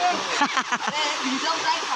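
A village waterfall in Kokan pours and splashes in a constant rushing hiss as friends gather at the pool beneath it, with a voice talking over the roar of the water.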